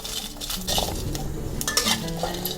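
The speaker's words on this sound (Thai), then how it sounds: "นำพริก กระเทียมแล้วก็หอมแดงมาคั่วนะคะ" Chili, garlic and shallots dry-roasted in a pan for a Thai mushroom chili paste, with close, continuous scraping and stirring, light clinks of utensil on pan and a soft sizzle throughout, no talking.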